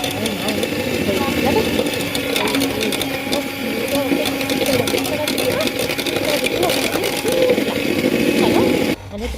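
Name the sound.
electric mixer beating caramel gateau batter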